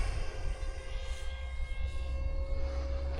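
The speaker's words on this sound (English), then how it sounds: "I'll just stick that 2212 in it and see how it flies with a 6-inch prop" Brushless 2212 motor spinning a 6-inch three-bladed 60/40 prop on a plywood-mounted RC F-22 test rig, a steady high whine with a low buzzing drone, close and continuous.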